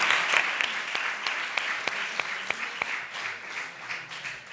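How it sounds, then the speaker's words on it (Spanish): An audience applauding, brisk clapping from a crowd that starts loud and slowly thins out over a few seconds. "Un aplauso para Machín."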